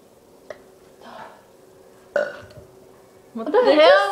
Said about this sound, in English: What the hell? Why you burp?